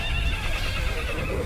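A horse neighs loudly and steadily in a Karbala-history drama serial, the whinny filling the full moment with nothing else breaking in.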